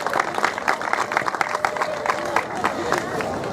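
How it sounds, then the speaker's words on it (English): An outdoor crowd gathered for an arthritis charity walk's opening ceremony claps, with distinct individual hand claps and some background chatter and cheering throughout. "So let's give everybody here a big round of applause."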